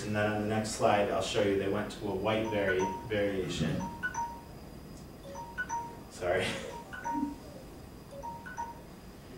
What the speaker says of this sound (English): That was my alarm telling me I'm over on time.